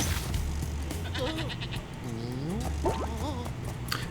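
Several goat bleats in the video game Spyro 2: Ripto's Rage Reignited, wavering cries rising and falling over steady game music and ambience, clearly heard and close, with a pause between calls.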